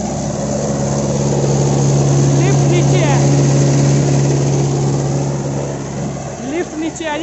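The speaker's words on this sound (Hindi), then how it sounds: "बेहतरीन ट्रैक्टर चल रहा जी, बेहतरीन जिसे कहते हैं।" A Mahindra 575 XP Plus tractor pulls a 7 ft rotavator in a field, its engine droning steadily and loudly through the whole stretch, with someone talking over it near the end.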